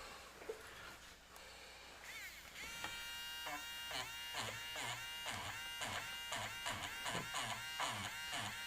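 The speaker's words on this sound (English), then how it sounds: "I use those here and there, the vortex mixer." Vortex mixer shaking a bottle of airbrush paint, a rapid rattling buzz that starts partway through and pulses steadily and closely, with a quiet voice heard faintly near the beginning.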